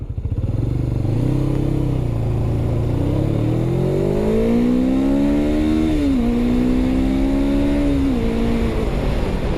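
A Suzuki GS500 motorcycle engine pulls steadily while riding, its loud, close drone rising in pitch through the gears with brief dips at each shift, no talking over it.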